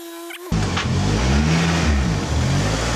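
A Honda CRX engine revs loudly and steadily from a stuck idle air control valve, holding a high, wavering drone that starts abruptly and continues without a break.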